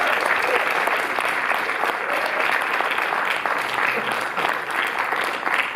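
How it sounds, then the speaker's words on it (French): Warm, sustained applause from an audience at the Max Linder cinema in Paris, a dense even clapping that holds at a steady level throughout. "je crois qu'on peut vraiment beaucoup l'applaudir"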